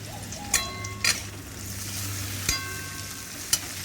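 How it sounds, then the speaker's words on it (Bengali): Onion fries in a pan with a soft, low sizzle and a few sharp clinks from a utensil at scattered moments, close and fairly quiet, no talk. "পেঁয়াজটা ভাজতে দিয়েছি"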